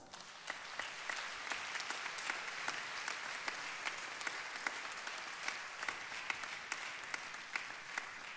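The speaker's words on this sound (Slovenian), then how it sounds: "Tudi za to gesto en močan aplavz." Audience applause at a regional sports awards ceremony in Mozirje, a sustained, fairly quiet roll of many people clapping with sharp individual claps standing out, steady and even throughout.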